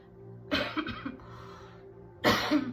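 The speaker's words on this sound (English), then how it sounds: "I'm having like a really mean cough." A person coughs several times in a quick cluster, then pauses before one more harsh burst of coughing, close and fairly loud.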